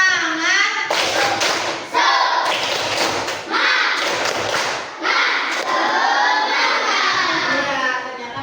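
Indonesian schoolchildren in a teacher-training classroom lesson perform a rhythmic group clapping chant, sharp claps and thumps falling in timed bursts while their voices shout and sing along loudly throughout.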